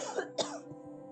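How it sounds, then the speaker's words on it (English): A person clears their throat and gives a short cough, two quick close bursts followed by faint low murmurs, with a steady hum underneath. "Hold on, I got a cough."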